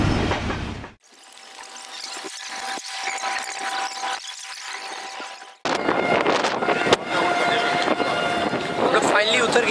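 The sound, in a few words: Karakoram Express passenger train departing a station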